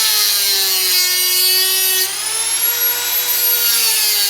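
High-pitched whine of a small Dremel rotary tool grinding metal, steady and loud, with the pitch shifting slightly midway as the load changes.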